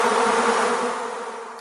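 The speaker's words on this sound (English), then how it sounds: "this would be a few thousand bees in the back of an SUV that crashed and overturned on Highway 30" A few thousand bees from an overturned SUV after a crash on a highway swarm and buzz in a dense, loud, continuous drone that eases slightly toward the end.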